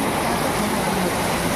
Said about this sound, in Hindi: धुआंधार बारिश हो रही है, ये देखिए हमारी दुकान के सामने।